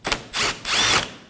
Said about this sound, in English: We're going to be removing the 10mm bolts.